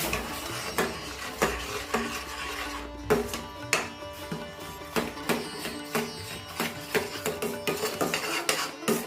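Rava and milk stirred in a pan to keep out lumps, giving a steady run of sharp metallic spoon scrapes and clinks against the pan at close range, with no talking.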